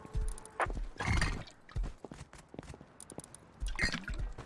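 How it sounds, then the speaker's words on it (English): A horse in the survival game Rust whinnies and snorts while its hooves clip-clop in uneven bursts, close and fairly loud, with a few wet dripping sounds between. "this guy's feeding the horse"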